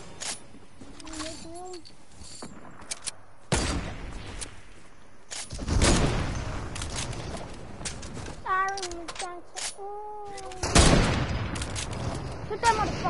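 Bursts of automatic gunfire from the video game Fortnite, with sharp broadband cracks scattered through the clip among gaps and some wavering tonal game effects, loud and close.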